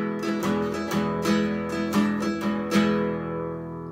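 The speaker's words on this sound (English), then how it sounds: "Now I've got a nylon string classical, which I'm going to play with a pick to be fair." Nylon-string classical guitar played with a pick, strumming a series of full chords in an even pulse, each stroke ringing warmly into the next before the sound fades; no one speaks.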